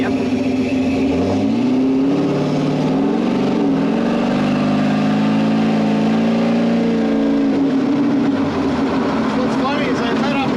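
Factory Five 33 hot rod engine on a Terminator X tuned setup, revving up and easing off under load, a loud close droning tone rising and falling through gear changes.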